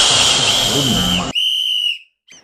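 A whistle sounds in two sharp, loud blasts, the first long and the second shorter, followed by a faint brief chirp.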